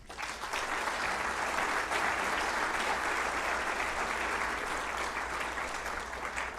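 Continuous applause from an awards ceremony audience, a broad dense wash of clapping held at even strength for several seconds without voices on top.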